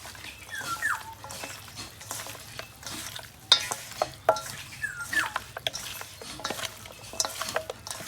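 Country chicken is mixed by hand with salt and white oil in a metal bowl, giving wet squelching and scraping with irregular clinks of the bowl, close and fairly quiet, with no talking.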